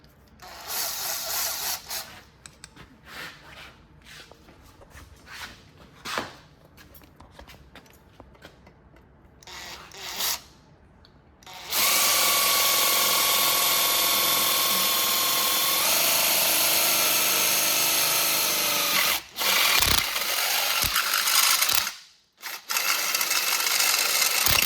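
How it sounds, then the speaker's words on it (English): Power drill boring into a Giant Rincon bicycle frame to fit a 1000W 48V e-bike conversion kit insert, with short stop-start bursts and then a long loud sustained run of whirring. "So here's us drilling it."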